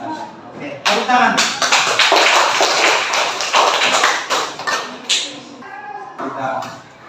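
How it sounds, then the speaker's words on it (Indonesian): A classroom of children clap their hands together in a dense, lively burst lasting several seconds, fading out briefly before a short second round of claps, with a faint voice nearby. "Oke, tepuk tangan."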